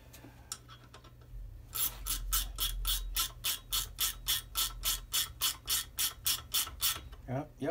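A hand wrench ratchets on a mechanical part in a workshop: a fast, even run of about twenty sharp rasping clicks, close and fairly loud, with no talking during the strokes.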